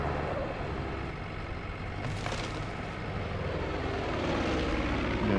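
A propeller airplane drones overhead in Far Cry 5, a steady, loud engine roar that builds slightly toward the end, heard alone with no talk.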